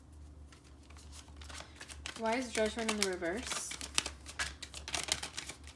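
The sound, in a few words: shuffling tarot cards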